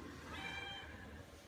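A cat meows in a home in the morning, one drawn-out, wavering meow that rises and falls, heard up close but faint, with no talk over it.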